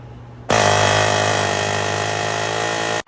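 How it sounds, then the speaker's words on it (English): A pneumatic air chisel hammers on a seized ball joint in the control arm of a 2009-2020 Dodge Journey, starting abruptly after a short pause and running as a loud, continuous high-pitched rattling buzz for about two and a half seconds before cutting off. "It may just come out with some simple air chiseling and soaking down in penetrant."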